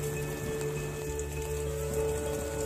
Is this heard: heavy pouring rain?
yes